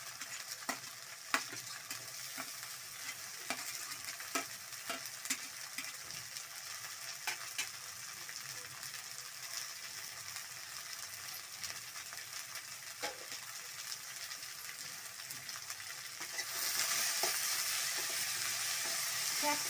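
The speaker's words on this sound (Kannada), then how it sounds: "ಕ್ಯಾಪ್ಸಿಕಮ್ಮು ಚೆನ್ನಾಗಿ ಫ್ರೈ ಆಗಲಿ." Green capsicum frying in a pan, a quiet steady sizzle with repeated scraping clicks of stirring, growing louder and hissier near the end.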